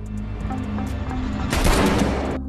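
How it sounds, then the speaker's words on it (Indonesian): A gunfire exchange in a film: a dense, loud volley of shots erupts partway through and lasts under a second, then cuts off abruptly. "Lalu Kate dan Varric saling menembak."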